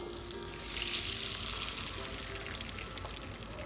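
Beaten omelette eggs poured into melted butter in a hot pan for a classic French omelette: a steady, close sizzle and frying hiss throughout, with a slight surge as the eggs hit the butter.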